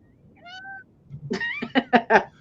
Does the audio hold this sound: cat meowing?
yes